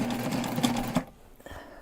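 A sewing machine stitches a backpack, running steadily and fairly close for about a second before stopping, leaving quieter room sounds and faint movement.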